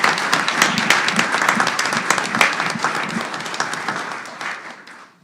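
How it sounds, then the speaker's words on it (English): A round of applause from attendees at a board of trustees meeting, brisk and fairly close, with individual claps audible that gradually thin out and fade over about five seconds. "Can we give this group of individuals and teams a round of applause for all of their contributions?"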